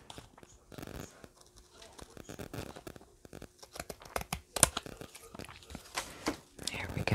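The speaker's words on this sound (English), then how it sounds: "I'm just going to cut that off. Use my bigger scissors." Large scissors snipping through a book page while making a simple paper envelope, several short crisp cuts and crinkles close to the mic, with soft whispery handling noise between them.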